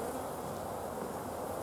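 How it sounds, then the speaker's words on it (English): Dense, steady buzzing of many honeybees swarming around an opened hive during frame inspection, close and continuous with no pauses. "it makes the bees really angry"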